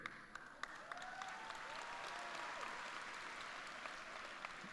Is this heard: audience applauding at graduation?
yes